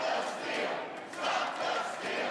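A crowd at a political rally in Phoenix, a dense, steady wash of many voices and shouts close around, with a brief dip in the middle before the noise swells again.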